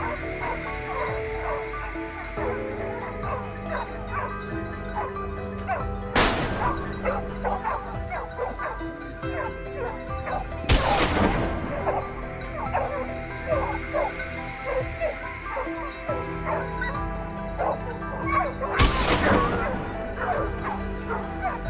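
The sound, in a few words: hunting dogs barking during wild boar chase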